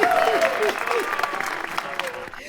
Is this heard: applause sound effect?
yes